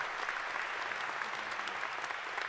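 An audience at a senior recognition ceremony at an engineering school claps steadily with dense, even applause, and no single voice stands out.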